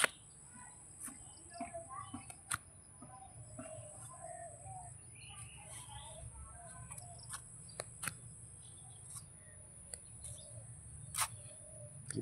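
Birds call and chirp across a dusky evening scene as they head home to roost, scattered tweets and short calls over a steady low background hum, with a few sharper clicks.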